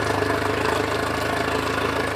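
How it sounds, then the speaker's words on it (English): An outboard motor idles in neutral while being flushed with water for storage, giving a loud, steady, even drone with a faint knocking pulse throughout. "we now turn the engine on and leave it in neutral"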